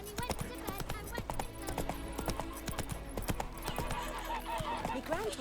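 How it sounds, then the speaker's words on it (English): Hooves of the horse Roach clip-clopping in a steady fast gallop in the video game The Witcher 3, continuous and prominent, with a voice talking over part of it. "Run, Roach."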